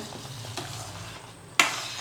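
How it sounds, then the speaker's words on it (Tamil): Cashews and cardamom powder are stirred into a Chettinad moong dal sweet in a heavy pan, soft scraping and sizzling close up, ending with a sharp metallic clink. "அப்படியே ஒரு கலந்து கலந்து விட்டுருங்க"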